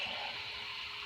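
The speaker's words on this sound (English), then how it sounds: "And I added some water." Water pours steadily into a cooking pot of sancocho on the stove, a brief continuous splashing hiss with no break from start to finish.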